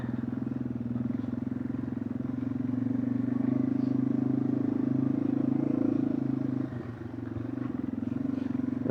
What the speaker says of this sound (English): it really feels good to get back out on my bike